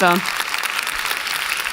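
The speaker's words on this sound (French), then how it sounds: "les applaudissements aussi" An audience at a poster presentation event applauds, a dense, steady wash of clapping that follows a brief voice at the start and carries on under the room's sound.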